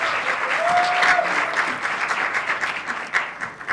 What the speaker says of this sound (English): Big round of applause for her, please.